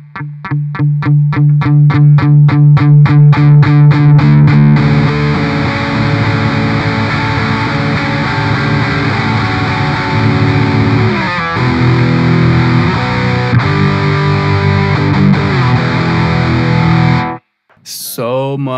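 PRS SE Custom 24-08 electric guitar played through heavy distortion, loud chugging palm-muted notes giving way to sustained, saturated chords and riffs, ending in a brief cut to silence before the playing resumes.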